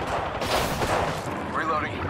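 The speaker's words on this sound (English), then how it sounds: "Shots fired, and they're hitting me." Gunfire in Apex Legends on PS4, a rapid burst of weapon shots layered with game effects and a voice speaking over the action, fairly close and steady for a couple of seconds.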